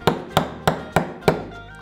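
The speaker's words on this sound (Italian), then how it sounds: "Inseriamo qua e diamo una semplice martellatina." Five sharp, evenly spaced taps of a small hammer driving a knurled screw ring out in quick succession, light metallic knocks close by with nothing else in the background.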